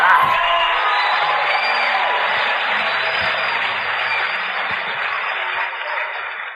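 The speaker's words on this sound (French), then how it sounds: "Oh alors, crie!" A large crowd at an evangelical preaching meeting shouts and cheers in response to the preacher, a loud sustained roar of many voices filling the hall throughout.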